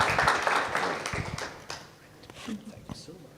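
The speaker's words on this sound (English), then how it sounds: "let's give another round of applause to our speaker" Audience applause for a speaker at an AI conference, a brief burst of clapping that fades over a couple of seconds, with voices talking over it.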